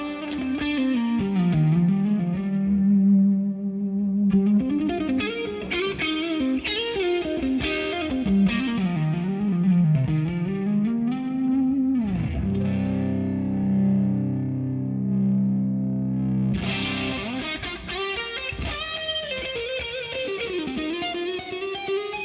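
High-gain distorted electric guitar through a maple amp with chorus and reverb effects, played continuously and loud with sustained chords and riffs, no voices.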